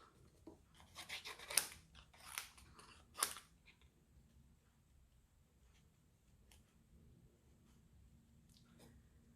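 Scissors snipping through a small piece of material, a few quiet crisp cuts close by in the first few seconds, then near silence with faint rustling.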